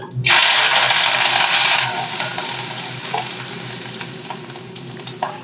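A spoonful of ginger drops into hot oil for a homemade Kerala-style mango pickle, bursting into a loud, close sizzle that gradually settles into a softer, crackling fry.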